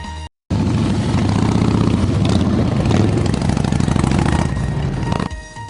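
Harley-Davidson motorcycle engines at a large gathering of bikes in Milwaukee rumble and growl steadily, a loud, low throbbing roar that holds for several seconds before easing off at the end.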